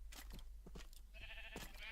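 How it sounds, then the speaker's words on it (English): Blocky video-game sheep bleat a few times in a red-wool breeding pen on a faction server farm, short nasal calls at moderate level over a low steady background hum. "This right here is my sheep farm, in which I've captured a couple of sheep and I breed them with wheat"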